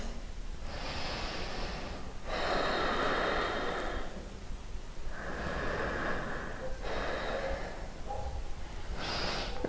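Deep, slow breathing during a yoga session: long audible inhales and exhales repeating in a steady rhythm, close and fairly loud, with no talk over it.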